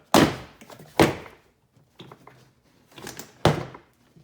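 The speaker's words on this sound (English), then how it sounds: "And the door panel should come free." Plastic clips of a Toyota 4Runner door panel popping loose as the panel is tugged free, a few sharp thunks and knocks spaced over a few seconds, close and fairly loud with no talking.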